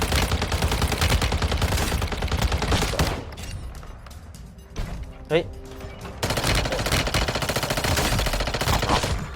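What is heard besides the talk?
gunfire in a video game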